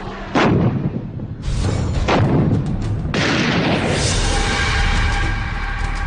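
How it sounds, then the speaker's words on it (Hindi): Heavy artillery cannon fire from the Kargil war on the mountain border: several loud, booming shell blasts, each followed by a long rumbling echo that rolls on and overlaps the next. "21 साल पहले जब करगिल में सरहद पर तोप के गोलों की गूंज थी"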